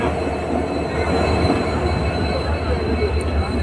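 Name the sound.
fair ride train arriving at Gandhi Mela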